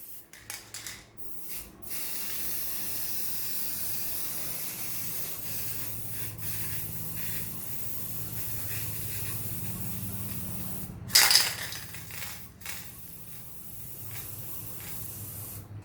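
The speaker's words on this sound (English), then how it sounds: "shake and just spray" A continuous close hiss of an aerosol spray can painting an alloy wheel rim runs almost throughout, with a few brief pauses and a sharp rattle midway.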